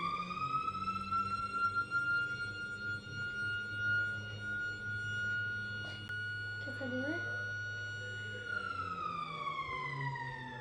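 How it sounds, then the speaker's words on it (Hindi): A Ramadan sehri alarm siren sounds at home before dawn as a steady, sustained tone that holds for about nine seconds before dipping, with background speech and household noise underneath. "इतने फिर सहरी का अलार्म बज गया।"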